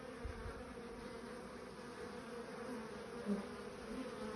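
Honeybees buzzing steadily in a dense, agitated swarm after losing their queen, a continuous close drone with a brief louder swell near the end.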